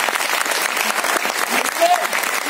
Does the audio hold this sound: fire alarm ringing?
no